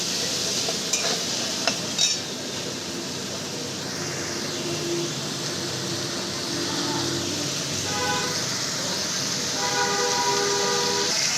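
Potatoes with a little salt fry in oil and are turned in a pan. A steady, close sizzling hiss lasts throughout, with a couple of clattering knocks early on and faint tonal sounds in the background later.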